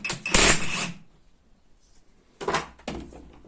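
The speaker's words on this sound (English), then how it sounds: "Here I'll have to undo this nut as well." Metallic clicks and clatter from a wrench working a nut loose on a KITT Firebird Trans Am replica, a loud burst early on followed by two shorter knocks after a quiet pause, close up.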